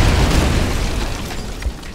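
A grenade going off in the 2009 Wolfenstein video game, a loud rumbling boom that fills the moment and decays slowly with rolling low-end debris.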